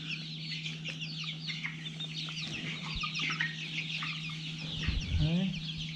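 Four-week-old chicks and young birds, including a Buff Orpington cockerel, cluck and chirp in a farm pen, a busy, moderately close chatter of overlapping calls over a steady low hum.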